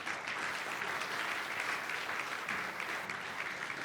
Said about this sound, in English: Let's have a big round of applause for both of our speakers.